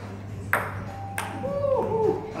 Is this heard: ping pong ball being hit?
yes